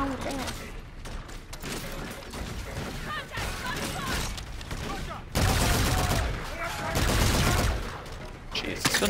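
Sustained rapid gunfire from a weapon in the Call of Duty: Infinite Warfare campaign crackles in dense bursts throughout, swelling louder toward the end, with occasional voices in the mix.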